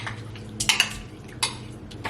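A few clinks and soft knocks of a utensil against a bowl, with a thud of softened butter and cream cheese dropping in, close and fairly quiet.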